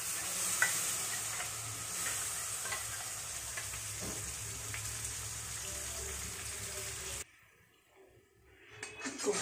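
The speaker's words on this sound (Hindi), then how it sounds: "कढ़ाई में डाल दिया घी और डालूंगी जीरा और जो जो हमारे पिसा हुआ मसाला है ये पूरा इसमें डाल दूंगी।" Ground spices and cumin seeds frying in hot ghee in a kadai, a steady close sizzle with stirring scrapes for about seven seconds before it suddenly drops away to near silence.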